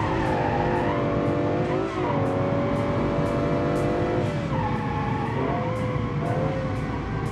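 A muscle car with a V12 engine revs hard under full throttle, its steady roar falling briefly at each upshift before climbing again, loud and close throughout.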